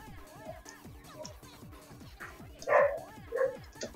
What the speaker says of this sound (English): Shut up, doggy. Stop barking.